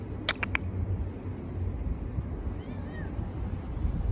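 A pet cat gives two short meows close by, then a faint, thin meow a couple of seconds later over steady low background rumble.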